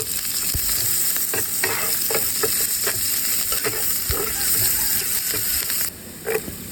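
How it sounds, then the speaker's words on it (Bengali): Chopped garlic and onion sizzle steadily in a pan while a utensil scrapes and stirs, with clear taps and clacks against the pan over the constant frying hiss. "প্রথমে দিয়ে দেবো রসুন কুচি তারপর দিয়ে দেবো পেঁয়াজ কুচি এবার আস্তে আস্তে নাড়তে থাকবো"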